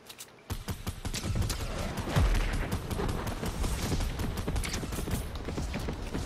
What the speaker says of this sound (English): I'm gonna airstrike him.